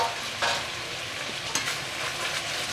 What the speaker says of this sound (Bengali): এবার মাংসটা মিনিট 2 ভালো করে নেড়ে নেবো।